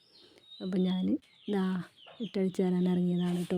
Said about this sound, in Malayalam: ഇടയ്ക്കിടയ്ക്ക് ഇങ്ങനെ കോഴിയമ്മേൻ്റെ പിള്ളേരെ സൗണ്ട് കേൾക്കുന്നത് എവിടെ നിന്ന് അറിയോ?